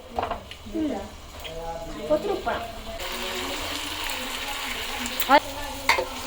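Pork roast being stirred in a sizzling pan after salt goes in, a steady frying hiss with a few scraping knocks near the end, heard under a person's speech early on.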